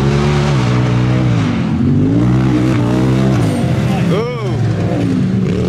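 Whalen-tuned race car making 215 horsepower at the wheels roars past loudly at a track, its steady engine drone rising and falling in pitch, with spectators talking and exclaiming over it.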